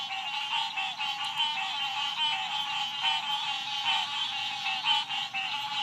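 A dense chorus of frogs calling together, a continuous overlapping trill with no single voice standing out, steady and fairly loud.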